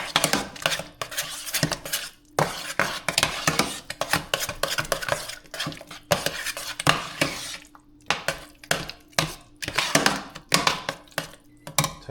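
A utensil stirs food in a metal pot, making repeated close scraping and clinking strokes in uneven bursts with short pauses between them.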